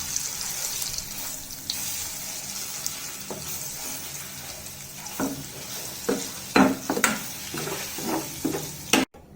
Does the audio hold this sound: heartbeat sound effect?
no